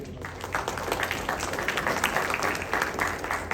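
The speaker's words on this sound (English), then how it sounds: "let's give Sean applause here for being here" A classroom audience claps for a guest named Sean, a steady wash of hands at moderate distance that runs without a break and without voices.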